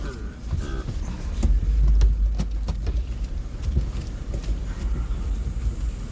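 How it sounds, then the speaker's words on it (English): A car's engine rumbles low and steady while it is being parked, with a loud swell partway through and faint knocks and shifting sounds over the continuous drone. "As I try to park this fucking vehicle. I gotta repark."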